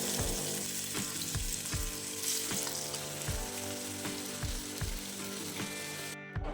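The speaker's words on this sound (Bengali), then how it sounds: "এবার কড়াইতে অল্প একটু সর্ষের তেল দিয়ে চিংড়ি মাছগুলোকে ভেজে নেব।" Steady loud sizzle of prawns frying in mustard oil, with repeated clinks and scrapes of a utensil stirring in the pan throughout.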